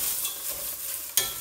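Chillies fry in a pan with a steady, even hiss, ending in one sharp stirring scrape near the end. No voice is heard.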